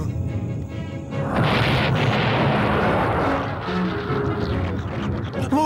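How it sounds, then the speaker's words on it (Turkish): A cartoon volcano erupting, a loud sustained rumbling roar with crashing debris-like noise that swells and lingers, overlaid with whooshing effects and faint sound touches at the end. "Volkan patlıyor."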